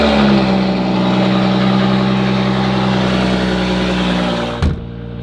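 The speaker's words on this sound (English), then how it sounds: "With the exhaust." A BMW 435i idles with a loud aftermarket exhaust in a garage, a deep, steady, rumbling drone close by that holds constant before a brief thump near the end.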